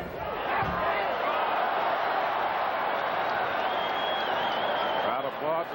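A crowd at a boxing match between Sugar Ray Leonard and Marcos Geraldo applauds in a steady, loud wash of clapping and crowd noise that holds without a break for several seconds, then eases slightly at the end.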